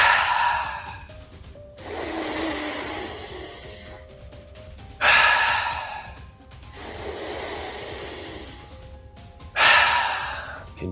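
Deep breaths drawn in and let out through the mouth during a recovery breathwork session, each long airy inhale and exhale slow and close, repeating in a steady wave-like rhythm with quiet pauses between.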